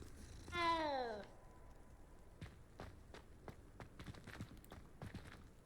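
In Hogwarts Legacy, a cat gives one drawn-out, falling meow near the start, then soft footstep-like taps patter irregularly for several seconds afterward, with no voices.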